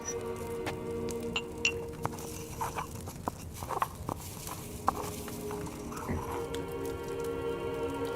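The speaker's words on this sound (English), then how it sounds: "Put it in the mortar. Grind it." Valerian being ground in a mortar while crafting in Kingdom Come Deliverance 2, soft scraping and light clinking knocks in an irregular rhythm over a quiet hum, close and faint.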